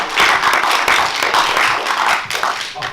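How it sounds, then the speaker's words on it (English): A comedy show audience in Bangor breaks into a big round of applause, fairly close and lively clapping from a modest crowd that swells and dips in waves without pause. "Big round of applause"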